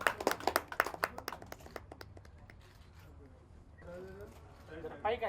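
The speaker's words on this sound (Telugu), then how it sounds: "చప్పట్లు కొట్టండి." Sharp, quick handclaps from an audience at a Telugu film logo launch press meet burst out loudly, then thin out and fade within two seconds as people start talking.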